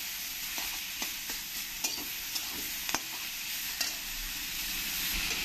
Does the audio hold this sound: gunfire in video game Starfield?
no